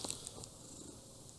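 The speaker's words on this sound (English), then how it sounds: "nice cat." A cat purrs close up with a soft, continuous rumble, plus a few faint clicks that could be chewing.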